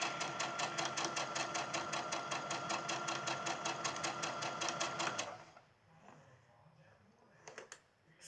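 A sewing machine runs in a steady, fast rhythmic stitch for about five seconds while sewing down a casing for elastic, then stops, leaving faint handling sounds.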